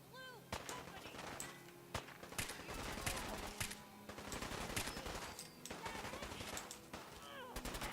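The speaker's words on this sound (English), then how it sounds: "And they are, of course, are shooting Piper," Gunfire in Fallout aimed at the companion Piper: rapid bursts of automatic rifle shots with sharp single cracks scattered across the clip, loud and close, with brief game voices mixed in.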